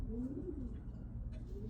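A pigeon gives a soft, low coo, faint and close, over a quiet low background hum.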